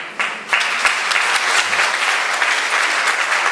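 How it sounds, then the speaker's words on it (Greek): An audience at a book presentation applauds warmly for a few seconds, a dense steady patter of many hands close by, with no speech over it. "το χειροκρότημα ζεστό"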